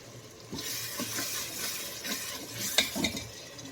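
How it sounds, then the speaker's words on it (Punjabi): Kadhi curry ingredients being stirred in a pan, a spoon scraping and clinking against the metal in an uneven rhythm over a soft sizzle, close by with no talk. "ਇਹਨਾਂ ਨੂੰ ਹਿਲਾਉਣਾ ਤੇ ਹਿਲਾ ਕੇ ਕਵਰ ਕਰ ਦੇਣਾ"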